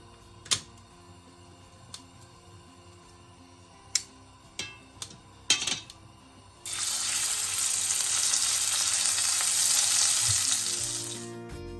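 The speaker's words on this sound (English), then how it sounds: "I'm going to brown the onions" Onions browning in a pan for beef pilau, fried in batches: a few sharp knocks and clatters come first, then a loud, steady hiss of sizzling takes over for the remaining several seconds, close and continuous with no voices.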